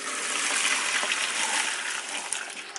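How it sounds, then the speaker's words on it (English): Hot water from cooked spaghetti pours out to drain, a steady loud rushing splash lasting a few seconds with no talking. "so we're going to drain the water."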